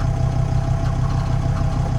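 Mercedes T1 310D diesel van engine idling cold in the morning with the engine cover on, a steady low rumbling idle with a fine rhythmic clatter, close and even throughout, without any talking.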